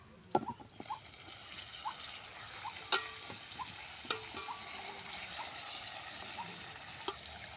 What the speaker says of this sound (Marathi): परतून घेऊया